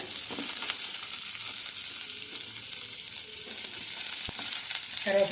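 Chopped onion, a green chili and curry leaves sauté in a pan for a potato capsicum gravy, giving a dense, even sizzle that runs unbroken at close range, with a faint scrape near the end.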